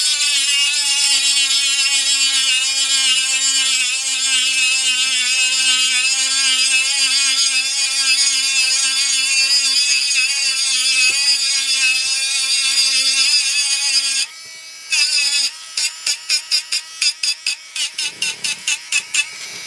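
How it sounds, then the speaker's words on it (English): A Dremel rotary tool grinds across the belly of a composition doll in a steady, loud high-pitched whine that then breaks into a series of short rapid bursts near the end. "Watch what happens when I use my Dremel all of a sudden on this."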